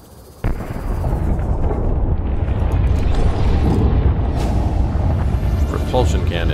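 Deep volcanic eruption rumble from the Subnautica underwater video game, a sudden loud boom followed by a sustained dense roar that stays strong throughout.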